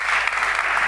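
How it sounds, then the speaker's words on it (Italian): Sustained audience applause fills an award ceremony hall, dense and steady clapping at full strength throughout with no voices on top. "presentare Sandro Boscaini, che invito qui sul palco con un grande applauso, accogliamolo"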